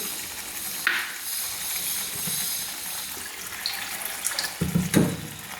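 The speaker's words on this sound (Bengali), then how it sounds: "মশলাতে আমি এবার জল ঢেলে দিচ্ছি প্রয়োজন মতো" Water pours into spices in a cooking pot, a steady splashing gush under kitchen noise, with a few clinks near the end.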